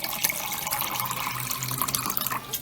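Water pours steadily from a tap into a French press to rinse cloth pads, a continuous close splashing gush with bubbly trickling texture and no talk.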